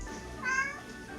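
A house cat gives a single short meow, faint and close, alone against a quiet indoor background.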